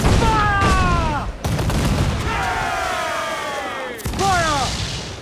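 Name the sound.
ship cannon fire in Assassin's Creed IV Black Flag, video game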